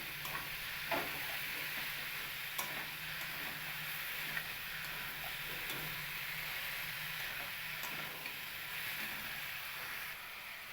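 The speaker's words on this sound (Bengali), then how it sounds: "মোচাটা দিয়ে আমি মশলার সঙ্গে খুব ভালো করে মিশিয়ে নেব।" Boiled banana flower (mocha) stirred and mixed with spices in a pan for a Bengali mochar ghanto, a steady low hiss of cooking under repeated light scrapes and taps of a spoon, with no voices.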